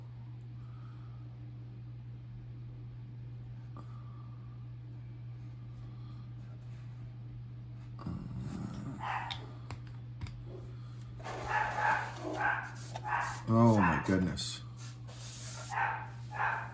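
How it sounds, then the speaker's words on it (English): A Chihuahua and a silver Labrador Retriever bark indoors in several rough bursts over a steady electrical hum, along with faint clicking from model-building work and a brief spoken exclamation. "Those are my lovely dogs."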